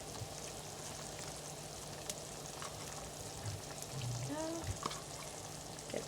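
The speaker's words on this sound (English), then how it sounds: "now that that's come to a boil, we're going to go ahead and add our shrimp" Shrimp go into boiling tamarind sauce in a pan, giving a steady dense sizzle and bubbling throughout with a few soft clinks and stirring knocks, no talk.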